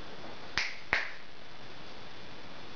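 Two sharp hand claps in quick succession, close and distinct, used to trigger an Arduino-based clapper switch, followed by quiet room tone.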